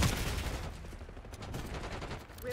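Dense continuous gunfire in Call of Duty, a video game, rattling loudly and steadily throughout a short burst with no pause.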